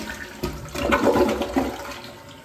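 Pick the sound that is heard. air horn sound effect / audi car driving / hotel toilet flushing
hotel toilet flushing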